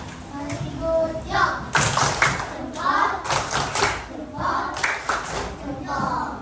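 Schoolchildren in an elementary classroom clap for a classmate standing at the front, a quick burst of small hands close by with children's voices chattering over it.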